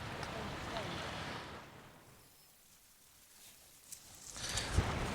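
Wind buffets the microphone on a seashore with a rough low rumble. It fades down in the middle and then gusts back up, joined by a couple of faint knocks.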